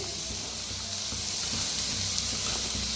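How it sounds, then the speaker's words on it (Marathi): Onion, cauliflower and cabbage frying together in a pan for momos, a steady close hiss and sizzle with faint stirring clinks. "आता कांदा चांगला भाजत आलेला आहे, त्याच्यातच टाकूया आपण फुलगोबी, हे पत्ताकोबी"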